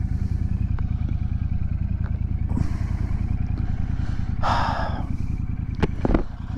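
A 2024 Royal Enfield Super Meteor 650 motorcycle thrums with a rhythmic low engine beat during a ride, broken by a few brief clatters and a short breathy burst near the end.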